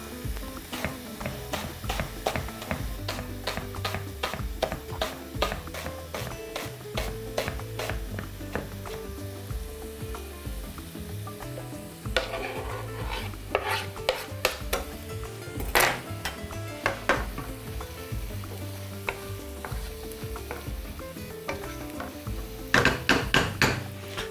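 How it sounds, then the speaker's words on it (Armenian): A knife slicing chili pepper into half rings on a cutting board while making white sauce pasta, a long series of crisp, evenly paced taps against the board, moderately close. "կտրում ենք երկարությամբ եւ կտրատում ենք կիսաօղակների"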